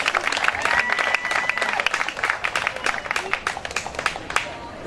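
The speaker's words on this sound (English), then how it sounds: "give yourselves a round of applause for being here" Audience at an outdoor clean water rally in Florida applauding, a dense burst of clapping that thins toward the end, with a voice speaking over it.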